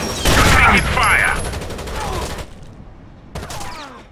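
Bursts of rapid gunfire from the video game Rainbow Six Vegas, loud and close, firing in sustained volleys with brief pauses, mixed with shouted game voices and a final short burst after a silent gap.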